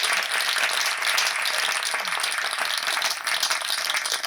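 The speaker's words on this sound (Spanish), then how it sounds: "les pido un fuerte aplauso a todos los presentes" A conference audience at a Best Workplaces 2022 report presentation applauds steadily, a dense, even wash of many hands clapping that holds for several seconds with no voices over it.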